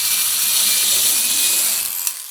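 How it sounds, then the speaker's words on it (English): A power drill whines steadily while drilling a pilot hole through a wooden plank into the next, a continuous high buzzing for about two seconds that cuts off abruptly near the end. "Drill a smaller hole for the nail itself to go in a little ways."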